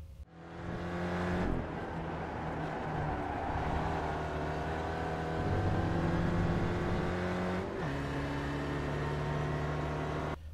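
Spec Racer Ford race car engine on the Okayama circuit in iRacing: a loud, steady close-up drone with pitch rising and falling through gear changes and corners, with no talk.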